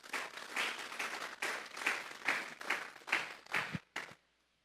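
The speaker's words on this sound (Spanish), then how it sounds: "Denle un fuerte aplauso pues al Señor." Congregation clapping in unison during a church sermon, about ten rhythmic, evenly spaced claps at a steady beat that stop abruptly, leaving near silence.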